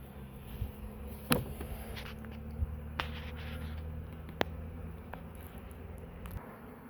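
Honeybees buzz steadily around the front of a beehive, a dense continuous drone of many insects close by, with a few sharp taps and knocks scattered through it.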